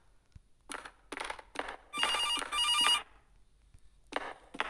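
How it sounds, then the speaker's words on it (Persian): A telephone rings in a horror game about animatronics: several short trilling bursts with gaps, then two longer, louder rings, and more bursts after a pause, fairly close and clear with no talk. "تلفن"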